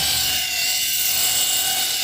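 A power tool grinding down the surface of BMW car wheels before priming, a continuous loud high whine with steady grinding noise, close up and unbroken for the whole moment.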